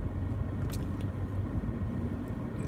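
Slow traffic on a wet interstate near an exit, heard as a continuous low engine and tyre rumble with a couple of short hissing passes, moderately quiet and without voices.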